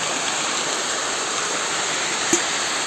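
Floodwater rushes steadily into a village pond, a constant loud hiss of pouring water with one brief knock near the end.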